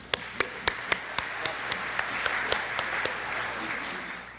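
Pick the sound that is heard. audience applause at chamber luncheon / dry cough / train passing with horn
audience applause at chamber luncheon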